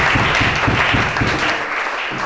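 A church congregation applauds during a service with dense, steady clapping that fades toward the end.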